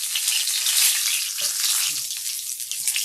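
Breaded crocodile meat sizzles steadily in hot frying oil, a continuous close hiss filling the whole moment with a few faint bubbling pops and no voices.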